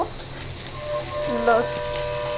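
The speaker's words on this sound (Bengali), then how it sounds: "এখানে পেঁয়াজ আর রসুন দিয়ে দিলাম তেলের ভিতরে ভালো করে একটু মেরে চেড়ে নিচ্ছি" Onion and garlic fry in hot oil for a jackfruit-seed and dried-fish recipe, giving a soft, continuous sizzle beneath a person talking nearby.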